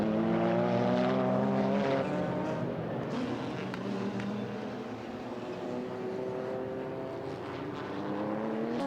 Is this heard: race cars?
yes